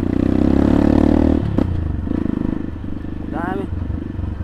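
A Sports 250 dirt motorcycle runs loud and steady along a riverside trail, its engine droning with a light clattering rattle, then easing slightly as a brief whistle-like squeak cuts in near the end.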